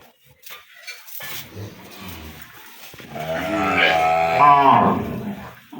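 A young Sahiwal bull calf, still with its navel cord, gives a long, loud, close moo that swells toward the end, after a few quieter grunts.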